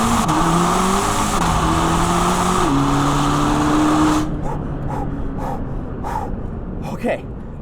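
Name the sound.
Corvette ZR1 accelerating hard from second gear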